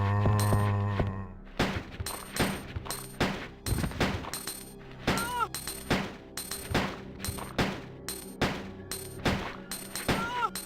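Repeated gunshots from Resident Evil 2, roughly a dozen sharp cracks fired at an uneven pace over ten seconds, loud and close, with a sustained tone sounding at the start.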